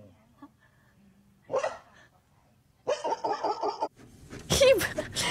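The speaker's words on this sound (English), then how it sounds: "Why is he barking backwards?" Odd reversed-sounding dog barks, a few short bursts separated by quiet gaps, fairly close.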